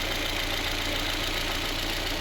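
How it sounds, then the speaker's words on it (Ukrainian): A VAZ 2115 car engine idles on LPG gas after valve clearance work, a steady, even hum with constant loudness throughout and no voices. "Автомобіль зараз працює на газу час торік місяця от. Ну, Можете послухати."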